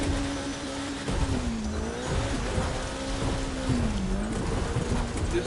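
A car engine in the driving game The Crew 2 straining up a mountain in a very high gear, a steady droning tone that wavers and dips in pitch over a continuous rough road rumble.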